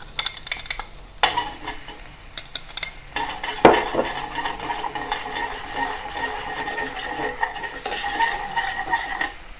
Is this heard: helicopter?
no